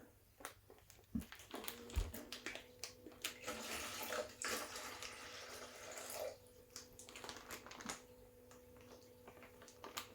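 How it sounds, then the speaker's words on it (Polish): Water poured and splashing into a tank or aquarium with an automatic top-up system, irregular trickles and splashes over a faint steady hum, with a few ticks and knocks around it. "Trzeba olać, odlać trochę wody."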